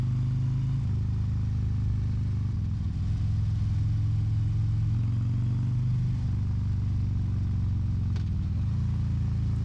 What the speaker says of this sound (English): I bet these people get sick of hearing motorcycles all friggin' day